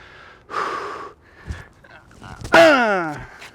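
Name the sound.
loud grunt while hitting a tennis serve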